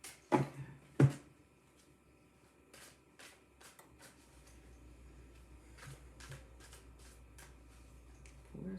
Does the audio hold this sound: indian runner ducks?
no